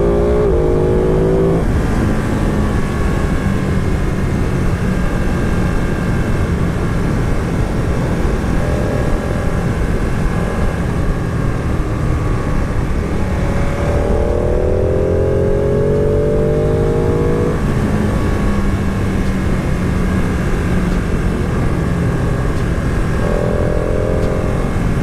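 A 2017 KTM Super Duke motorcycle ridden through corners on Spanish roads, its engine droning loud and continuous with rising and falling revs through gear changes, heavy wind rush throughout, and no voices.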